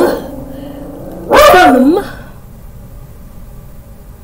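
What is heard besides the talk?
dog barking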